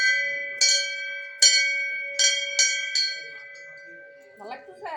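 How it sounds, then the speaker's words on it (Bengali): Temple bell rung at the Ganges, five or six bright metallic strikes in an irregular rhythm with long ringing tones that fade, close and clear, followed by a little faint background sound. "ঘন্টা বাজাও, ঘন্টা বাজাও।"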